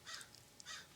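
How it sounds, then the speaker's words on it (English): Crows cawing outdoors, two harsh caws a little apart with a brief fainter call between, distant and quiet against a low background hiss. "There's crows crowing."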